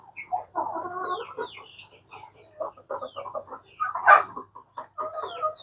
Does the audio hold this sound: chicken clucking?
yes